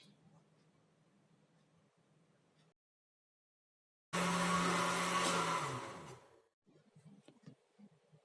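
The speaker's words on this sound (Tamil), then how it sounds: "இப்போ மீதி இருந்த பாலும் இதுக்கு கூட சேர்த்து ஒரு வாட்டி நல்லா பிளெண்ட் பண்ணால் நம்மளோட ஸ்மூதி ரெடி" An electric blender whirs loudly for about two seconds, blending a banana papaya smoothie with milk, then winds down and stops, with quieter talking before and after.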